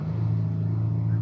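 Jeep Wrangler 3.6L engine with an oil pump fault, a steady low droning hum held at a constant pitch while revved, close and fairly loud with no pauses.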